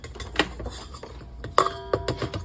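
Bao bun dough being mixed in a bowl with flour, scattered clinks and scraping knocks of a utensil against the bowl, close and irregular, with a couple of bright ringing metallic hits.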